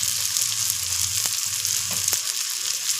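Ginger, onion, green and dry chilli, tomato, cumin and coriander paste frying for ghugni, a steady close sizzle throughout with a couple of brief stirring scrapes.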